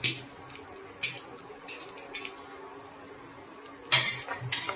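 A metal spoon clinks and scrapes against a pan while grated ginger is sautéed in a spiced tempering for paneer cutlets, with several sharp knocks spread over a quiet background.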